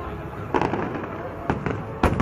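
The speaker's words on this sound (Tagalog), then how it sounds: "Ba't tayo tignan yung fireworks?" Three sharp booms of fireworks burst at intervals over a constant background rumble, with faint voices in the crowd noise.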